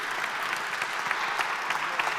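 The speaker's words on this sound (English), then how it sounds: "Thank you, Aaron Pilofer, and a big warm of applause." Steady applause from an audience fills the whole stretch, a dense wash of clapping with no pauses.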